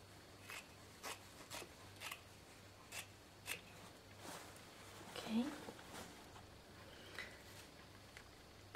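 Scissors snip through card stock and fabric while making insoles, a series of quiet, crisp cuts spaced about half a second to a second apart, close by and faint.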